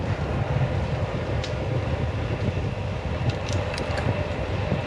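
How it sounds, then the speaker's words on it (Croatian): A passing train rumbles as a loud continuous roar, heard from a road bike riding fast alongside it on the Ljubljana to Zagreb route, with wind and rolling noise filling the whole stretch and faint clicks above. "we were going so fast we started passing a train."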